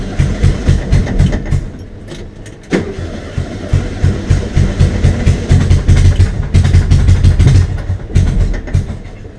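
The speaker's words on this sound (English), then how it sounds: "Major exhaust leak, but it starts, so I'm happy." A VW Bug engine fitted with J pipes and a major exhaust leak runs while driving, giving loud, choppy, rapidly pulsing bursts that surge and dip, close by, with no talking.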